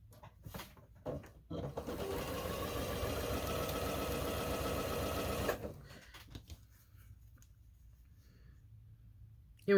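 A sewing machine stitches fabric pieces together for a quilted mug rug, a steady close whirring hum for several seconds after a few short starts, then stopping into quiet with light handling sounds.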